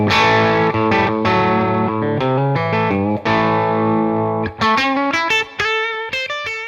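A Gibson Firebird electric guitar plays through its bridge pickup in a lively run of distorted single notes and short phrases, loud and close, with no voices.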